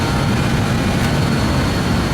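Jet engines of a BAe146-300 airliner in a Microsoft Flight Simulator game during the climb, a loud continuous low roar and hum, steady and unbroken with no voices.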